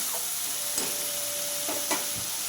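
Spice paste soaked in water, with ginger and tomato, frying in a pan as it is stirred: a steady close sizzle with a few soft scrapes of the spoon, no talk.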